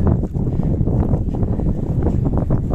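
A headwind buffets a mountain bike rider on the road near Cerbère, a loud, rough, continuous rumble of wind across the microphone that gusts and churns without pause.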